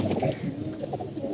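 Pigeons coo continuously and close by, overlapping low throaty calls in a steady murmuring rhythm with no voices.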